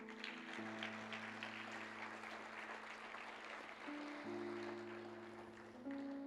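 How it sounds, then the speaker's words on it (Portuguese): A church congregation applauding, a dense sustained wash of clapping from many hands, with a held musical tone sounding underneath. "Vamos aplaudir esse Deus."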